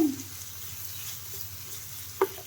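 Bottle gourd sambharo stirred over a low flame in a pan, a faint steady sizzle with a soft scrape at the start and a brief utensil knock near the end.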